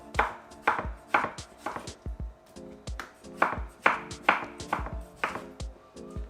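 Repeated knife chops through medium tomatoes on a cutting board, a steady series of about fourteen crisp, close strikes in uneven rhythm, with no talk.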